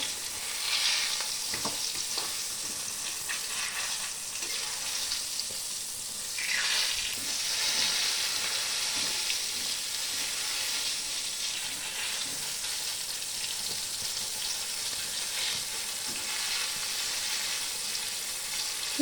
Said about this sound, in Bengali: আমার এখানে বেগুনগুলো খুব সুন্দরভাবে ভাজা হয়ে গেছে, আবারও একে একে আমি তুলে নিচ্ছি।